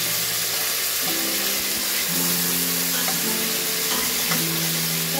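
Onion and tomato frying in a pan give off a loud, continuous sizzle that stays steady throughout, with faint tonal sounds in the background.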